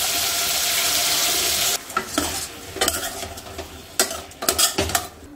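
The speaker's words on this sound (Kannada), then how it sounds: "ಇದಕ್ಕೀಗ ಬದನೆಕಾಯಿ, ಆಲೂಗೆಡ್ಡೆ ಸ್ವಲ್ಪ ಎಣ್ಣೆಯಲ್ಲೇ ಫ್ರೈ ಮಾಡ್ತೀನಿ" Eggplant and potato pieces hit hot oil in a pan with a loud, dense sizzle for nearly two seconds, then give way to a run of close scraping and stirring strokes over a softer fry.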